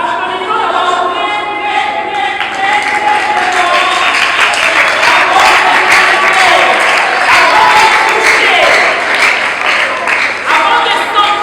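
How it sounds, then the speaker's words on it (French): Audience at a school celebration for International Women's Day at a collège applauding, a loud continuous crowd clapping with music and voices mixed in throughout. "Applaudissons d'abord"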